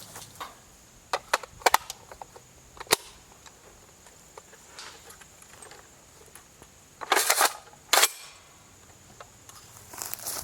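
A .50 BMG rifle firing standard full metal jacket ball ammunition into a 10-inch hickory log outdoors, heard as several sharp, sudden cracks and impacts spaced irregularly, with a louder, longer burst near the end.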